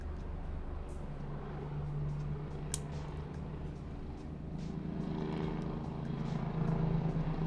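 A low-flying police helicopter circles overhead, a steady loud rotor drone with a low throbbing hum that swells slightly near the end, close and continuous with no talk.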